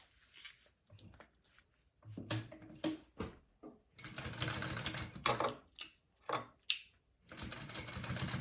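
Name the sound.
sewing machine sewing exterior and lining fabric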